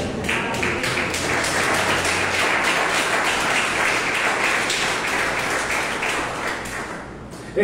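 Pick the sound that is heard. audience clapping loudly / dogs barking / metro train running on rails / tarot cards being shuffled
audience clapping loudly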